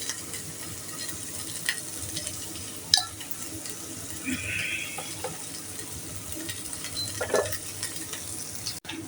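Onions and green chilies sauté in a pan for egg curry, a low steady sizzle with occasional spoon clinks and stirring scrapes nearby.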